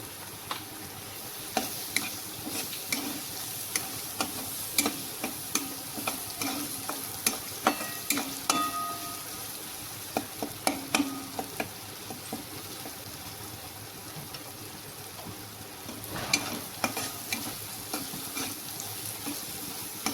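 Spices sizzle steadily in a hot pan while being stirred for a soybean vadi bhaji. Close, crisp frying hiss is broken by frequent small clicks and scrapes of a spatula against the pan.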